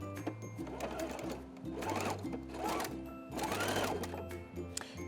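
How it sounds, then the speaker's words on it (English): Domestic sewing machine running a broken zigzag stitch with lengthened stitches on lace elastic, heard as a close, steady mechanical whir with rhythmic needle clatter that rises and falls in several short bursts. "So I have my zigzag stitch set to the broken zigzag, and I've lengthened my stitch as well."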